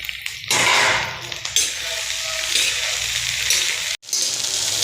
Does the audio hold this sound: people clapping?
no